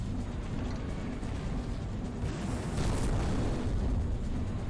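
Chest missile attack in the video game Robot Alchemic Drive, a dense, continuous roaring blast like rumbling explosions and booms, loud and unbroken with no talking.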